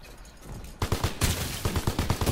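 Rapid gunfire in the Call of Duty video game: a quieter stretch, then loud bursts of repeated shots with a sharp rhythmic crackle through the second half, no talk.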